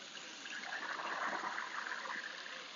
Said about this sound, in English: Here you can see the fountain of flowers.